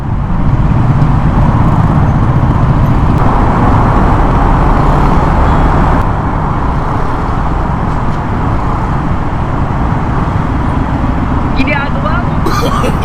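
Road traffic rumble heard from a delivery rider's motorbike in Sun Valley, a loud, continuous low roar of engines and wind throughout, with voices speaking over it and a few faint higher noises near the end.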